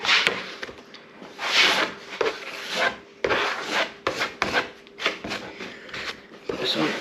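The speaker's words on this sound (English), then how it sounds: "Put this on, scrape it into the holes." Filler being scraped into holes on a truck cab sun-visor during restoration, with repeated rasping, rubbing strokes in an uneven rhythm, close up, while someone talks over it.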